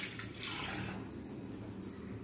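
Half a litre of water poured into a cooking pot for drumstick soup, a steady close splashing that is loudest early and settles into a softer trickle toward the end, with no voices.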